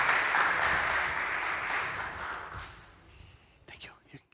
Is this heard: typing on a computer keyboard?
no